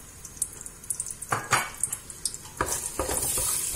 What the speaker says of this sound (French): Je vais faire comme si je suis en train de torréfier les épices dans l'huile avec le concentré de tomate